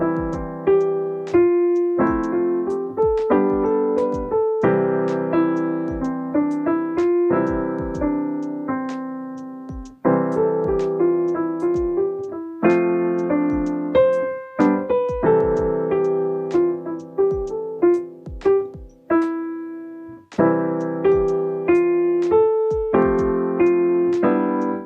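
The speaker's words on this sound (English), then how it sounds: "let's try improvising some melodies in our right hand" A piano plays a wandering improvised right-hand melody over a steady chord progression, moderately paced and continuous, with no voices.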